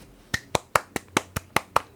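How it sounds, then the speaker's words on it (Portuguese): Sharp single hand claps, about nine evenly spaced in quick succession, close and crisp with no voices. "Uma salva de palmas."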